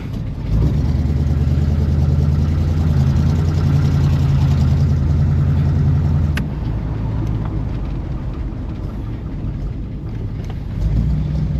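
A Pontiac Grand LeMans engine runs at a low, steady rumble close by, holding a constant throb before settling slightly lower, with some rattles alongside.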